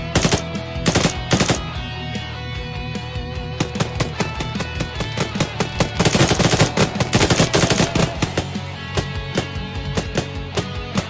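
Enemies firing guns in Arma 3 at night, heard as dense, continuous automatic gunfire with many overlapping loud cracks and rattling bursts for about eleven seconds, with no voices.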